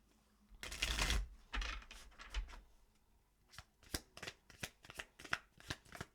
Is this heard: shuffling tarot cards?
yes